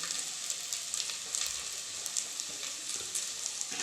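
Washed mint leaves sautéing in a pan of mushroom biryani, giving a steady close sizzle and hiss with faint stirring crackles, with no talk over it.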